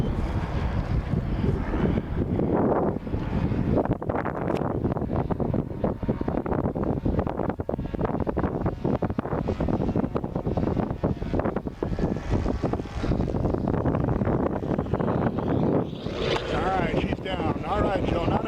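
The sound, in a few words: strong wind during model airplane landing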